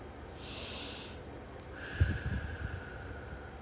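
Soft, slow breaths are drawn in and released in a quiet room, first a hushed airy inhale and then a longer exhale with faint low rumbling. The whole passage is gentle and close.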